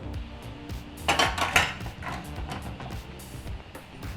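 Metal clatter of ingredients being stirred in a pressure cooker for ghee rice, then the lid knocked and fitted shut, with a burst of louder clanks midway over a low kitchen rumble.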